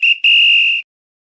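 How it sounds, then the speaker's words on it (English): A referee's whistle at an NFL preseason football game sounds in two shrill blasts, a brief chirp followed by a longer steady tone, loud and clear before cutting to silence. "It's the final whistle"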